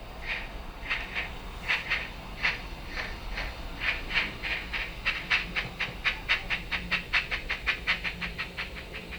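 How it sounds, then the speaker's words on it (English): A Bachmann OO9 narrow gauge model steam locomotive chuffs steadily through its sound speaker, its rhythmic double puffs quickening and growing louder over a faint background hum, with no talking. "A lot more noise coming from this loco."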